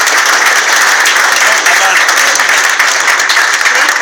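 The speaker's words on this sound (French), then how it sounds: "je pense que les applaudissements" A large convention audience at BBE Con 2014 gives loud, dense applause that is steady and even throughout, with no gaps, heard close and full.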